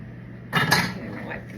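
Glass jars of freshly filled homemade tomato sauce being worked over by hand, giving a short cluster of close clinks and scrapes of utensil on glass, with a faint low hum behind it.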